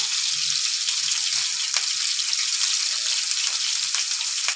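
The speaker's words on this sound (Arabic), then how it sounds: "هحمره برضو مع الثوم اهو" Crushed garlic and chili pepper fry in a pan of oil for moussaka, a steady soft sizzling hiss with a few light clinks, moderately close and without speech.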